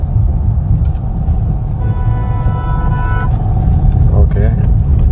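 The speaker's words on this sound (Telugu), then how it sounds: "అటు పైన మళ్ళీ లారీ వస్తుంది." A lorry comes toward the vehicle along a narrow single-lane road, with heavy road rumble and engine noise throughout, a sustained horn tone sounding in the middle and a short honk near the end.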